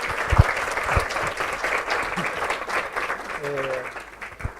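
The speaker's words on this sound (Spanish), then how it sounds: "le damos un fuerte aplauso" Audience applause after a microbiology colloquium lecture, a steady wash of clapping throughout with a few sharper nearby claps and a brief voice near the end.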